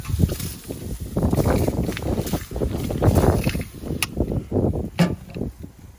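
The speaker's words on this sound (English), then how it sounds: "It's real windy out, everyone, so I apologize for the wind." Gusty wind buffets the microphone outdoors with heavy, uneven rumbling surges, loud and close, with a couple of sharp knocks near the end.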